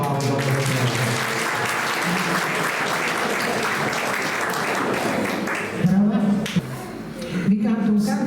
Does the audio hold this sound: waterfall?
no